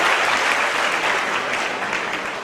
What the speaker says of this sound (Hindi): जोरदार तालियां इस मौके के लिए।